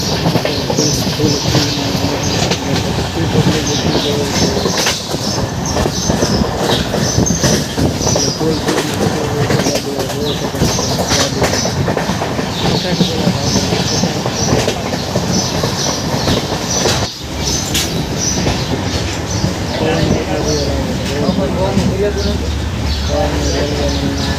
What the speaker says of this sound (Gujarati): આ બોટાદના રેલવે સ્ટેશન તમે જોઈ શકો છો કેટલો પબ્લિક જઈ રહ્યું છે